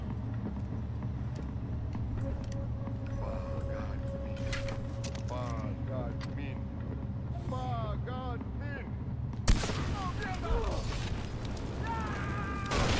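A single sharp gunshot cracks out loudly near the end of a Far Cry 4 scene on PS4, cutting through game ambience of wind, animal chirps and hoofbeats, with faint voices beneath.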